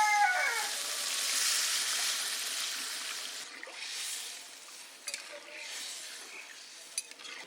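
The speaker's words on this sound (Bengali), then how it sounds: "মশলায় তেল ছেড়ে দিচ্ছে, এখন দেবো জল।" Water hits hot oil and spice paste in a Bengali kitchen pan while an ilish fish-head and kochu loti curry cooks, setting off a loud, steady sizzling hiss that fades slightly, with a few faint clinks of utensils.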